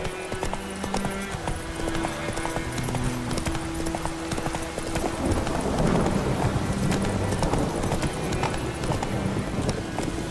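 A horse gallops through The Witcher 3 in a steady, rapid clip-clop of hooves that stays loud and continuous throughout, with no voices over it.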